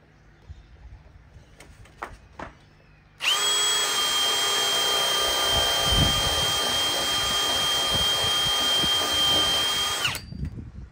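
A power drill bores a hole for a hydroponic float valve, with wooden backing clamped behind the spot. It whines loudly and steadily close by for about seven seconds, then stops.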